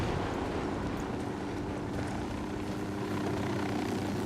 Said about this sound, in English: Down, get down, chopper.